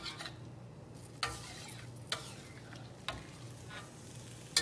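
Ground beef, zucchini, onions and tomatoes stir-fried in a seasoned wok give a steady low sizzle, broken by a few sharp clinks and scrapes of a utensil stirring, heard up close with no talking.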